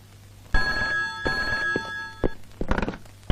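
A new mobile phone rings loudly with a bright electronic tone, followed by a few thumps and handling knocks as it is picked up.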